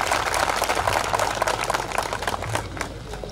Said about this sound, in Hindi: संजय शर्मा जी के लिए आप एक बार जोरदार तालियां बजा दें